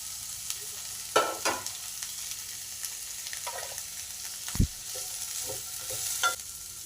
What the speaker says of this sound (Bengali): কিছুক্ষণ নাড়াচাড়া করে সবজিগুলো একটু ঢাকা দিয়ে দেবো